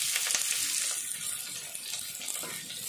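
Chopped onion frying in hot oil with whole cumin and bay leaf, a steady close hiss of sizzling that runs evenly throughout with no voices.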